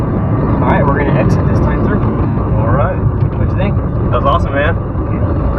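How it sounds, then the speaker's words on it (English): Lamborghini on an autocross course, its engine drone rising and falling through throttle and braking, loud and steady beneath constant speech from people in the car. "Squeeze on the throttle, full throttle. And brake, harder brake."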